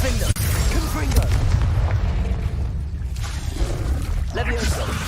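Spell blasts in the Hogwarts Legacy video game: dense, loud booming bursts and rumbling crashes over a steady roar of game effects, with a sharp impact near the start.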